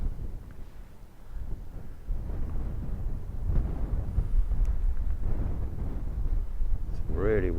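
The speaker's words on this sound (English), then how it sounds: "It's really windy." Gusty wind buffets the microphone on a beach beneath cliffs, a rumbling, uneven roar that swells and eases throughout, with a brief voice near the end.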